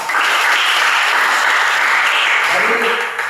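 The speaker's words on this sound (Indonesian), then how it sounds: "Berikan tepuk tangan." Sustained applause from an audience fills the room after a question about volleyball techniques, a dense steady clapping that holds at an even level before easing off slightly near the end.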